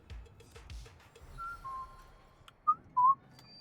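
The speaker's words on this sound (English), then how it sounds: "I don't even know if the whistle came through correctly." A person whistles during a Warframe game livestream: a few soft held notes followed by two short, brighter chirps, over faint background noise.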